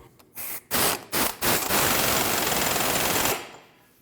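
Impact wrench tightening a 36mm axle nut on a 2012-2016 Honda CR-V front axle, a few short bursts followed by a sustained loud rattling run lasting about two seconds, then stopping.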